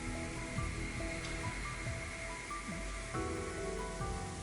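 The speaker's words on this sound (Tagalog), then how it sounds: "Spray." Alcohol spray misted onto a microphone, heard as a steady broadband hiss lasting several seconds, close and fairly loud.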